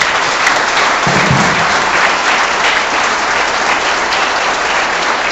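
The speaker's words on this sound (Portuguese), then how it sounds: "Vamos aplaudir bem forte." A church congregation claps loudly and continuously, a dense, even wash of many hands that stays strong from start to finish.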